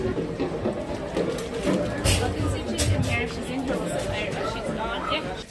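Crowd chatter of people waiting at Disneyland, a steady dense babble of many voices close around, unbroken for the whole stretch.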